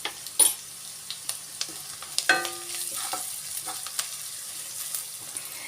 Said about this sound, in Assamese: এতিয়া মই হালধি, ধনিয়া আৰু কাশ্মীৰী লাল মিৰ্চ দিয়াৰ পিছত আৰু অকণমান সময় মই ভাজি ল'ম।